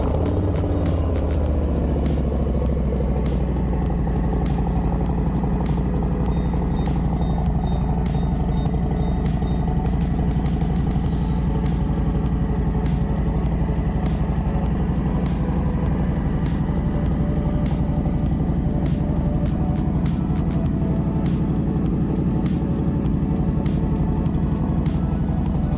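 A Street Syndicate Harley motorcycle engine cold starting and then idling, a loud, steady, deep rumble that holds for the whole stretch, heard up close and with no talking over it.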